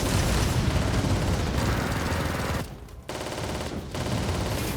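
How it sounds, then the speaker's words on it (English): Dense, heavy bombardment in Warhammer 40,000: Freeblade, with mortar impacts striking the player amid rattling gunfire, loud and continuous, cutting out briefly twice before the barrage resumes. "Same mortar hit me again."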